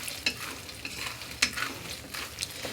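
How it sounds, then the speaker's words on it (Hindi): Fox nuts (makhana) are dry-roasted and stirred in a kadhai, giving a soft continuous scraping and rustling with scattered light crackles and ticks of the puffed seeds shifting against the metal. "तो मखाने हमने यहाँ पे कढ़ाई में डाल दिए हैं और अच्छी तरीके से मखानों को भी भून लेना है।"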